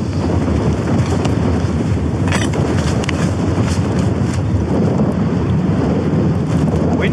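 Strong wind buffets a wild camp in full winter conditions on a Snowdonia mountainside. It makes a loud, continuous roar and rumble across the microphone that never lets up, and nothing else is heard.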